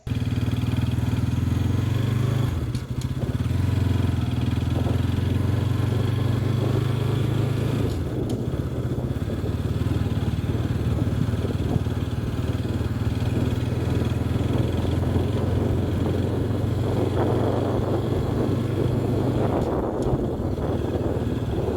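A motorcycle being ridden through its gears, its engine droning steadily with brief dips and surges at each shift, close and continuous with no other sounds.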